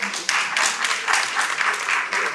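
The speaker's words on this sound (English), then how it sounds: "give them a round of applause." Applause from the audience at Texas Southern University's State of the University address, a close, loud burst of many hands clapping that holds steady for a couple of seconds.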